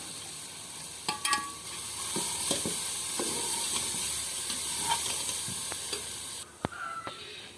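Chopped green chillies go into hot tadka oil for a village-style chicken and pea biryani, giving a continuous close sizzle and hiss with scattered stirring clinks, then a sudden drop in the frying noise near the end.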